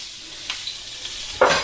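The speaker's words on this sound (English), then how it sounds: "In with instant sizzle." Neutral oil with a high smoke point hits a hot wok for a beef stir fry, giving a soft hiss with light clinks of stirring and a sharper burst of sizzle at the end.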